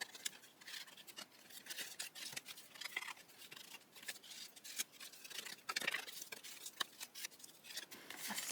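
Scissors cutting paper for a craft project, snipping close and quietly in a rapid, irregular series of short crisp cuts with light rustling between them.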